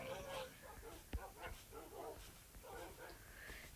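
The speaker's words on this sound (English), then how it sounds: "My doggies are out." Several tamed dogs in Minecraft yip and bark in scattered bursts while players talk over them, with a sharp knock partway through.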